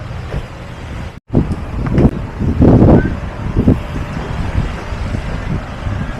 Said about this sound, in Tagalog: Lahat ng lugar dito ngayon ay mahangin.